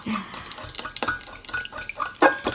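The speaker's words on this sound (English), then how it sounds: "Mix this round, keep stirring it so all the food colouring gets properly evenly put around." Spoon scraping and clinking against a metal pot while stirring melted old candle wax with food colouring, irregular close strokes with sharp metallic taps, no voices.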